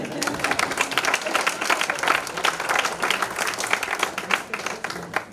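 A church congregation applauds with dense, sustained clapping that holds at a steady, fairly loud level for several seconds.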